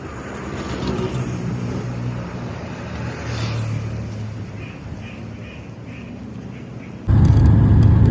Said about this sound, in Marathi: आता मी बसलो आहे ऑटोमध्ये तुम्ही बघू शकता रस्त्याला काहीच ट्रॅफिक नाही आहे